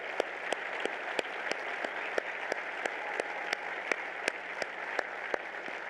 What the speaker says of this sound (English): we'd like you to stand and applaud you for the great brothers, sisters, kids, nieces, and nephews that you have.